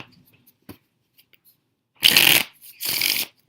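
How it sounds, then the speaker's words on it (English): A deck of playing cards riffled in two loud, close bursts after a near-silent stretch with a few small handling taps; no voices. "So you just shuffle a deck."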